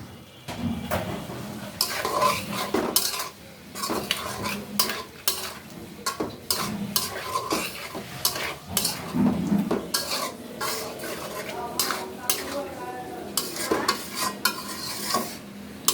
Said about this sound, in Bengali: এভাবে আমি এক মিনিটের মতো নেড়ে চেড়ে নিব